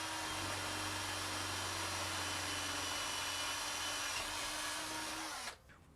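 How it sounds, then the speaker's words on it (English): A power drill runs continuously, boring out urethane exhaust mounts to 14 mm on an Audi TT kit car, a steady loud whine with a slight pitch drop before it cuts off near the end. "We've got drills, so we're going to hog it out to 14 mil and pop it over the end."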